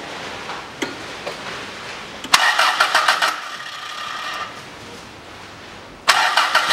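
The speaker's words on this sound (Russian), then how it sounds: "И попробую запустить двигатель." The 3S-FE engine of a 2000 Toyota Noah cranks briefly with rapid ticking bursts after a fuel filter change, stops, then cranks again after a pause; close and fairly loud, no speech.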